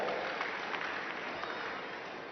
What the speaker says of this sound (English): Crowd rooting on their local girl